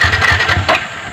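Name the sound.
new motorcycle engine running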